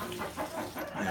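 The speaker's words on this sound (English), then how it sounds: "Yeah, those roosters." Rooster on a farm clucking softly in a short, faint series of low calls.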